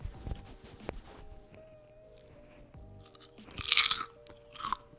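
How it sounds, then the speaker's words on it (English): Crisp crunching bites into a roasted Brussels sprout leaf, a few sharp close-up crunches with chewing, the loudest bursts coming near the end, no talking. "listen to this crunch"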